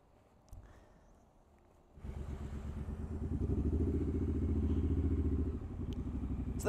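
Motorcycle engine starting up on a wintry outing, rising into a loud, steady rumbling idle that holds for several seconds before easing back slightly; no voices.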